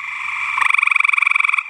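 Chorus of gray tree frogs calling at night, a steady high trill that swells into a loud, rapid pulsing series of rhythmic notes lasting over a second, close and clear with no voices.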